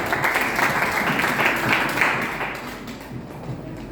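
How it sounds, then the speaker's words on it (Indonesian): A church congregation claps together in steady applause during a worship service, a dense continuous patter that fades somewhat toward the end, with no talk over it. "Tepuk tangan untuk Tuhan."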